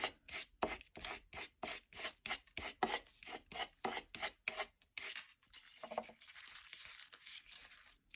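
A scraper rubs down a torn book page, making about a dozen quick, rhythmic rasping strokes close up, followed by a softer, continuous scraping.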